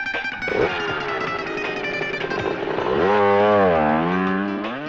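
Motorbike being ridden: a loud, close engine drone that rises and swells in pitch as it revs, steady throughout with no talk over it.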